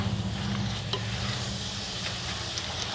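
Boiled cluster beans (gawar phali) are stirred and fried in a pan, giving a continuous close sizzle with scraping stir sounds and occasional soft crackles, steady throughout without speech.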